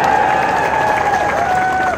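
Loud, steady applause and crowd noise from an audience at a Navjot Singh Sidhu political rally speech in India, continuous throughout with a sustained voice-like tone riding above the clapping.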